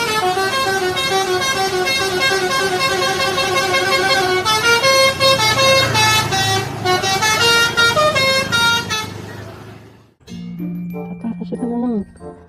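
Sudiro Tunggal Jaya bus blaring a loud multi-tone musical horn as it passes close by, long melodic toots repeating over engine roar, then a cut to a second, quieter horn phrase.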